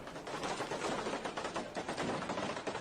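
Firecrackers bursting in rapid crackling volleys at a festival, recorded in news footage, a dense continuous rattle of overlapping pops at moderate distance with no talk.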